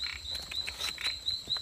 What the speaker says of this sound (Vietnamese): Con ếch tát này.